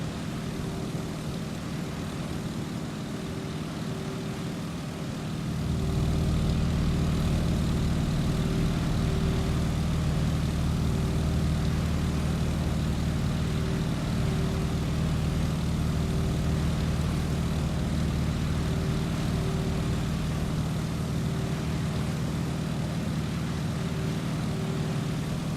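Propeller airplane engine on a landing approach, a steady droning hum with a constant tone that swells louder after a few seconds and then holds evenly, close and continuous, with no voices.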